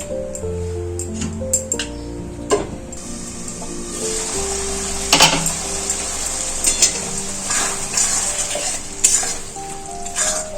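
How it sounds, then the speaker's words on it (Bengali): Drumstick pieces (moringa) sautéing with spices in a pan, a continuous close sizzle broken by several louder scraping stirs and clatters, with no voices. "এই সজনে ডাঁটাটা মশলার সাথে হালকা করে একটু কষিয়ে নিয়ে ঢাকা দিয়ে দেবো"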